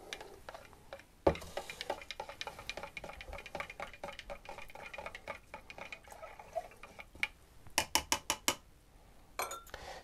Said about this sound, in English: Give it a final stir.